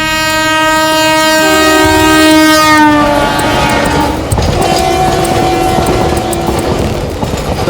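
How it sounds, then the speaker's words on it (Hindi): A freight train on a broadband-gauge railway line blows a long, loud multi-tone horn, then rumbles and clatters steadily past close by, wheels and wagons rolling on with no talk. "ये हमारी मालगाड़ी की रेल है साहब"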